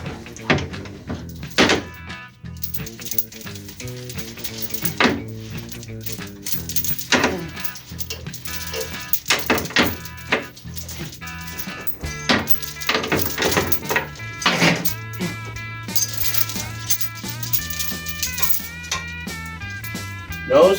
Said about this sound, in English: What you were hearing was the long chain hitting the trim tabs for the boat.